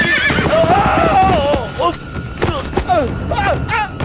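A horse whinnies loudly with wavering neighs while hooves clip-clop nearby, and people's voices and film background sounds mingle throughout.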